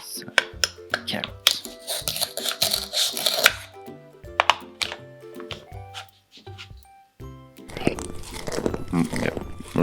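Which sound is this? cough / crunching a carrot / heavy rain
crunching a carrot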